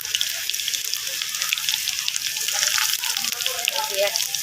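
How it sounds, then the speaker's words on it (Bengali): Cumin seeds and garlic sizzling in hot oil to temper dal, a steady bright hiss that runs throughout without a break, close and fairly loud. "এখানে আমি ডালটা ছক দেবো, তার জন্য আমি প্রথমে জিরা দিয়ে দেবো, পরে আমি রসুন দিয়ে দেবো"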